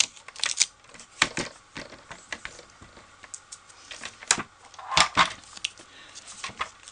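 Papercraft paper being scored with a tool for a Stampin' Up! 3D mug, a series of sharp close scraping and clicking bursts in an irregular rhythm, alone in a quiet room.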